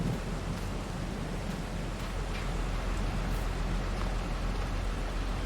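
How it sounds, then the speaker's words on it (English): Steady rain falling in a farming video game, a constant even hiss of broadband noise with no breaks, heard alone without any talk. "We'll wait for this rain to pass over."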